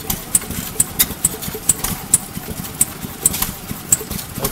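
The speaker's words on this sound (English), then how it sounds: "That's a smooth running engine." Old piston engine from the 1920s era with only compression rings, running smoothly at idle: a steady mid-pitched chug with even, regular pops and clicks, close and fairly loud, with no talking.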